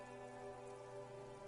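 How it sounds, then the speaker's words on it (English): Rain in the video game Disco Elysium falls as a steady, soft, even hiss over a faint low hum, with no voices. "Sheets of rain over the water"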